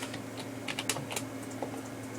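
Computer keyboard keys and mouse buttons click in quick, irregular bursts at close range, light and crisp over a steady low electrical hum, while a Portal 2 level is being edited.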